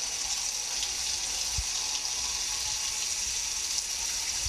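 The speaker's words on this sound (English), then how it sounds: "we'll be testing also for hot water. Make sure that the house has hot water." Hot water runs steadily from a tap during a house inspection, a continuous broadband hiss with a few faint low thumps and no talking.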